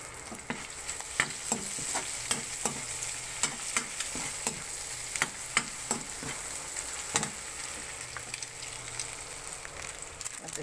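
Egg, bologna and onion frying in a pan for Filipino garlic fried rice, a steady close sizzle broken by repeated sharp scrapes and clacks of a spatula stirring.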